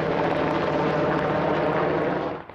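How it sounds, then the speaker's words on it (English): Helicopters flying water-drop runs over the Rices Fire, a wildfire burning along the Yuba River in Nevada County, make a loud, steady rotor and engine roar that holds throughout and then drops away at the very end. "You can probably hear the helicopters also."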